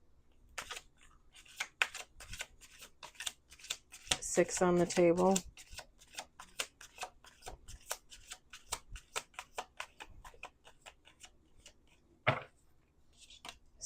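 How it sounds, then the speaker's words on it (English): A deck of tarot cards is shuffled on a table in soft, rapid riffling bursts, with one louder flurry midway and scattered taps, while a person talks quietly. "last shuffle"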